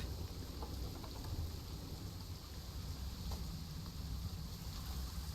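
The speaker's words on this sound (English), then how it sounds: "They have umbrellas, because of course it's raining again." Steady rain falls in the Planet Zoo video game, a constant broadband wash of patter with faint low rumbling underneath, even and unbroken from start to finish with no talking.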